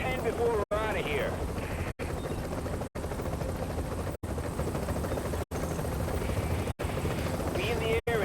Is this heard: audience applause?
no